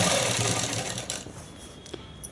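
A sewing machine stitches cotton shirt cloth in a steady, continuous whir, close and moderately loud with no voices.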